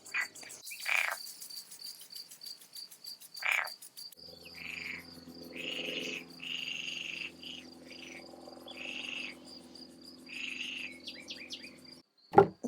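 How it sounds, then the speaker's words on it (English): A noisy frog croaks outdoors near a watered garden, loud and repeated in rhythmic bursts among trilling insects and a few bird calls, with a steady chirping drone running underneath. "I'm being very interrupted by a noisy frog"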